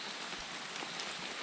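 Steady rain falls across a tropical property at the start of the rainy season, a soft continuous patter of drops on surfaces with no voices, fairly quiet and even throughout.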